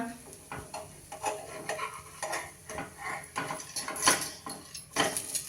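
A potato thalipeeth sizzling in an oiled pan after flipping, a soft crackle broken by repeated spatula scrapes and clinks against the pan, close and irregular.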